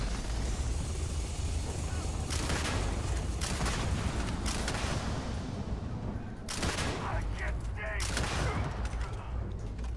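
Shotgun fire in the game Starfield, loud repeated booming blasts and gunfire over dense continuous combat noise, close and filling the scene.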